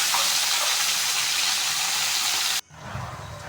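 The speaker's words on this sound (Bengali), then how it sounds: "এখন চাকাগুলো পিস করেছি সেগুলো ভাজবো" Thick steaks of freshwater fish from a bheel sizzle loudly in hot oil in a pan, a dense steady frying hiss that drops abruptly, then resumes more quietly.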